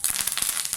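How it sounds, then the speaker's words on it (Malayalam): Curry leaves crackling in hot oil with mustard seeds and dried chillies for Kerala beans thoran: a short, soft burst of fast spitting sizzle and light pops. "കറിവേപ്പിലയും കൂടി ഇട്ട് കൊടുക്കാം."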